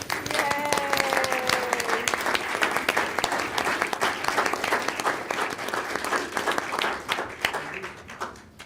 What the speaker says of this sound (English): Would you please stand up for a round of applause?